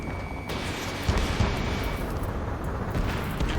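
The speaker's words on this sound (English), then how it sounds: "Gunfire and the roar of jets echoing through the streets." Gunfire in the Ace Combat 7 video game during a city battle under martial law, a dense rumbling barrage with sharp louder bursts near one second in, continuous and heavy throughout.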